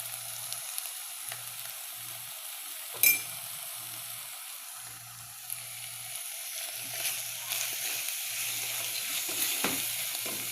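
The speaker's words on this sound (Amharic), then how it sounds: "ሽንኩርቱን አቁላልቻለሁ።" Chopped onions sautéing in a pan, a steady sizzle and crackle running throughout with occasional louder pops and stirring scrapes, fairly close and alone without talk.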